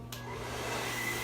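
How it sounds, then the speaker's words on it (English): A handheld blow dryer runs steadily after a brief click on, its airy whoosh and low motor hum continuous and close, used to dry paint at a painting session. "so here we go with this blow dryer"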